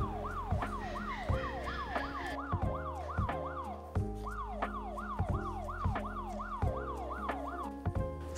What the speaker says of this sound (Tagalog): Ganito naman ang alert niya pag may dumaan na tao.